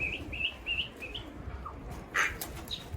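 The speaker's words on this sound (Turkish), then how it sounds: "Kuşlar yine yan taraf atıyor. Dönekleri uçuyor." Tumbler pigeons flap their wings in flight, with a repeating series of short chirps and a brief louder flutter of wings partway through.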